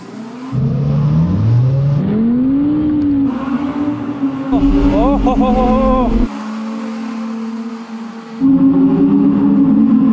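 An Audi R8 with Quattro all-wheel drive accelerates hard up a snowy straight, its engine loud and close, revs climbing and dropping through gear changes, with a voice talking over it.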